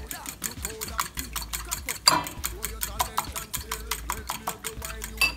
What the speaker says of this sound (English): Anyway, stir this up.